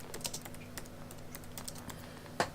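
Fast clattering keystrokes on a computer keyboard, typed in short bursts while searching online, close and moderately loud with a sharper tap near the end and no talk.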